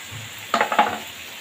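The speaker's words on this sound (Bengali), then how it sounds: "আদা রসুন টমেটো একসাথে পেস্ট করে রাখা ছিল, সেটা আমি এর উপর দিয়ে দিলাম। এটাকে ভালোভাবে কষিয়ে নেব।" Ginger, garlic and tomato paste hitting a hot pan for egg and potato curry, a burst of sizzling and stirring scrapes starting midway, with a quiet background hum before and after.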